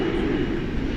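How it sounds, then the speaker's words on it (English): American Eagle E-Jet departing DFW Airport at night, a steady, fairly loud engine roar holding constant through the moment with no break or voices. "Got an American Eagle E-Jet, which is headed out."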